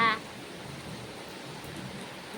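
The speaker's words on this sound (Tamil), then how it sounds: "எப்படி மழை பெய்யுதுன்னு பாருங்களேன் எங்க ஊர்ல" Heavy rain falls over a town, a steady, close broadband hiss and patter that fills the whole stretch without letup.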